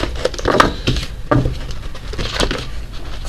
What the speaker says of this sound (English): I'm not having a good time shuffling these today.